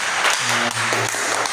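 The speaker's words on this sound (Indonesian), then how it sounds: "Tepuk tangan untuk beliau." An audience claps at a discussion session, a short burst of dense applause lasting about a second and a half, with a faint voice underneath.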